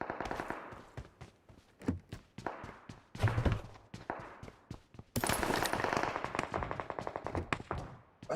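Gunfire in the mobile battle royale game PUBG Mobile pops out as scattered single shots and short bursts, then turns into a dense, sustained rattle of rapid fire.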